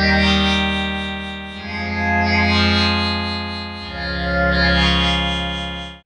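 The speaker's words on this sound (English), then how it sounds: "that's sort of the power of the wavetable synthesizer, is the modulation of the wavetable" Ableton Live Wavetable synthesizer playing sustained, rich buzzy notes whose timbre sweeps and morphs as the wavetable position is modulated, shifting in pitch twice, loud and alone, fading out at the end.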